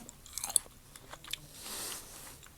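Crunchy chilled food being bitten and chewed up close, with a few sharp crisp crunches early on and softer mastication after, no talking.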